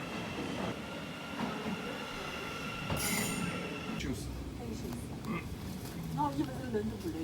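An Elizabeth line underground train in London, a brand-new deep-level line, rumbles steadily with a brief high wheel screech partway through and a rising hum near the end, heard from close by inside the train.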